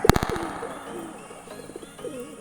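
Pigeons kept for breeding coo in a few soft, low rounded calls after a brief sharp clatter at the start, heard close and fairly quiet with no talking.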